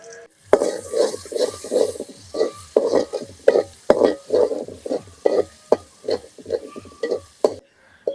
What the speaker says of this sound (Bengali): পেঁয়াজ রসুন লাল লাল করে ভাজা নিছি